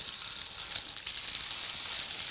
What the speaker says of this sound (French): je vais pouvoir installer mes pavés dans ma poêle